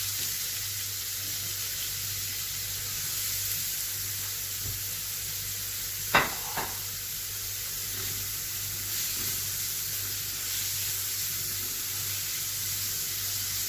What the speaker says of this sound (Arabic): وننزل البصل